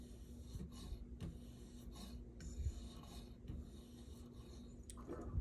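Ozark Trail budget Walmart knife edge drawn along a sharpening surface from tip to heel, a steady close rasping scrape with repeated strokes, alone without talk.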